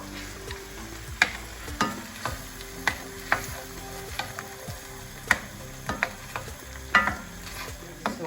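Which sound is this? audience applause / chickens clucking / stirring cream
stirring cream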